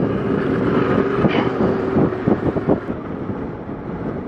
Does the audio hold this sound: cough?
no